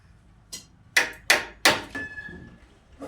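Nails being hammered into wooden planks of a staircase under construction: a light tap, then three loud, sharp ringing strikes about a third of a second apart, followed by a softer knock, all close by with no talking.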